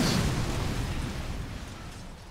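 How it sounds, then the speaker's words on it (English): A big explosion in the video game Sniper Elite 4 booms out as a loud broad burst, then a rumbling roar that slowly fades over a couple of seconds. "big explosion"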